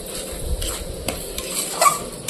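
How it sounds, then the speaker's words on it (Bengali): Spice paste with yogurt and ground prawn paste being sautéed in a pan for a prawn and pointed-gourd malai curry, with steady soft sizzling, a spoon scraping and stirring, and a few clinks against the pan, close and alone. "এবার সব কিছু একসাথে ভালো করে কষিয়ে নেব"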